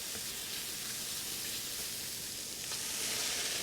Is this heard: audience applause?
no